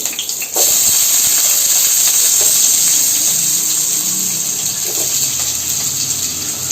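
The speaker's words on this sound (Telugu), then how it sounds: "ఇవన్నీ మనం ఒక్కొక్కటి ఆయిల్లో వేసేసేయాలి మంచిగా డీప్ ఫ్రై అవుతుంది" Sliced onions and carrots deep-fry in oil for homemade noodles with a loud, continuous bubbling hiss that holds steady throughout, close and unbroken.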